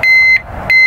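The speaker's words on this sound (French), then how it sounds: "On a bien le bip, mais il n'y a pas 85 décibels à mon avis" An alarm bulb on an agricultural machine gives two loud, sharp electronic beeps separated by a short gap, close and alone with the engine off.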